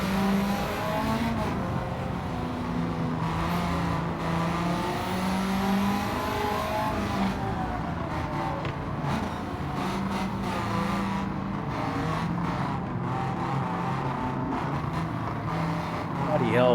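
A Toyota Corolla races in Gran Turismo 7, its engine droning and revving steadily throughout, with other cars audible nearby and a voice talking over the engine noise.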